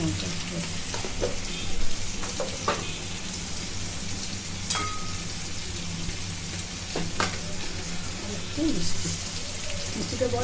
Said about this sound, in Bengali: একটুখানি মিষ্টি দেওয়া হলো, একটু কষে নেওয়া হচ্ছে